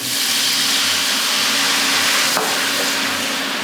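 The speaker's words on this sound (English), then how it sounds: "So we're gonna hit it with a little bit of our white wine." White wine poured into a hot pan after cooking shrimp to deglaze the fond, giving a steady loud sizzle and steamy hiss that carries throughout with no talking.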